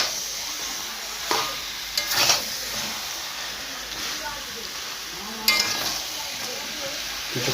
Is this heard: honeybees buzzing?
no